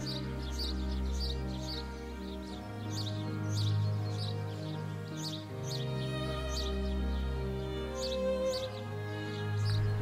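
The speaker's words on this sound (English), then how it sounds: "Yes, the birds are actually this loud." Birds sing loudly outdoors in a lush green setting, with bright, repeated chirps and trills running through the whole stretch over a steady tonal background hum.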